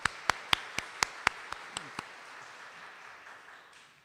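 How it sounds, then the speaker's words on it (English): A handful of sharp, evenly spaced claps at a book launch ceremony, starting strong and thinning out quickly into quiet hall ambience. "Please join me to give them another warm round of applause."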